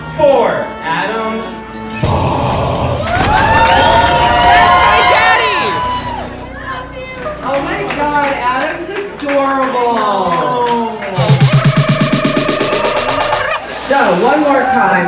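Party crowd at a Pride celebration cheering and applauding in bursts, with clapping and whoops mixed under loud music and a voice hyping the audience over a sound system.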